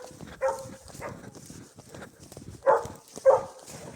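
A dog in a snowy winter forest gives several short, loud barks at irregular intervals. Quieter rustling and movement fill the gaps between them.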